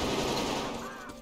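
Rapid gunfire in the first-person shooter Metro Exodus, a dense continuous burst of shots that stays loud and close for the whole brief moment, with a slight fade toward the end.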